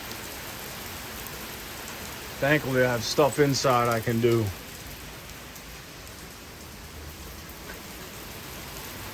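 Heavy rain pours down outdoors on a warm day, a steady dense hiss filling the whole stretch, while someone speaks briefly over it partway through.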